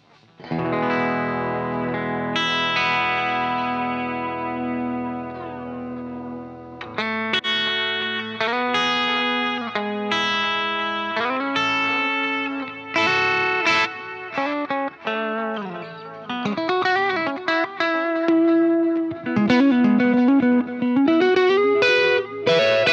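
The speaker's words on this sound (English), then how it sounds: "This is an tape delay." Dirty, driven electric guitar runs through an Axe-Fx II tape delay set to quarter notes, a long held note giving way to busy melodic lines with each note trailing echoing repeats, loud and alone.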